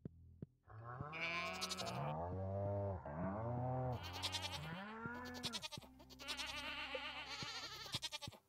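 Sheep bleats from the farming game Stardew Valley, a run of loud, wavering bleats one after another, close and clear with no talk over them.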